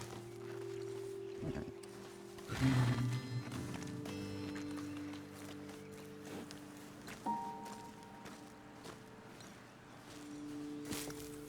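Horses in Red Dead Redemption 2, hooves clopping and moving near a roadside ledge, with tones, game sounds and a voice talking over them.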